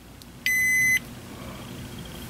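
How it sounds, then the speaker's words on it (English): A single short electronic beep from a Qi wireless charging pad as a phone starts charging, clear and steady for half a second, over a quiet room hum. "Okay, you heard that beep?"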